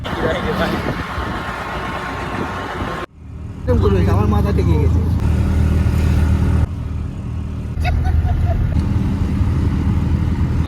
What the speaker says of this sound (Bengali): ক্যানিং থেকে অটো ভাড়া করে আমরা বেরিয়ে পড়লাম সোনাখালীর উদ্দেশ্যে।